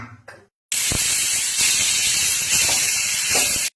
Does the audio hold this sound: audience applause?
no